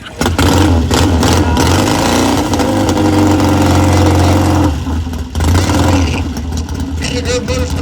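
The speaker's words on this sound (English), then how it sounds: "She's going to ride Don's big Triumph, if she can get it started." A big Triumph motorcycle engine fires up and runs at a parade event, loud continuous rumble with revving swells, close by, while a voice talks over it.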